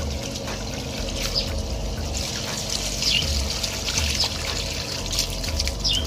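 Water poured out steadily while changing the water in a catfish tank during salt and bitter-leaf treatment, a continuous close trickling splash with no talk.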